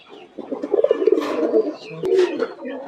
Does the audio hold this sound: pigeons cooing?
yes